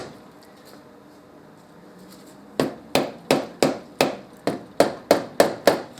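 On a Morini motorcycle engine, a hammer strikes the glued clutch casing to break it loose, about twelve sharp, evenly spaced blows after a quiet start, loud and close.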